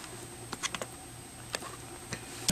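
An eeePC 1008HA laptop keyboard being worked loose by hand gives scattered faint plastic clicks and ticks, irregular and close, over a quiet room hum with no talking.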